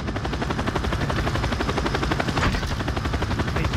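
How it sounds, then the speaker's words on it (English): A chopper gunner helicopter killstreak roars in Call of Duty: Modern Warfare on the Petrov Oil Rig map. A constant, loud rotor drone is layered with rapid bursts of gunfire, and nobody speaks. "Send air support. Chopper gunner coming in."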